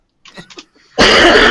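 A single harsh, raspy cough bursts out loudly and close, following a few soft breathy sounds.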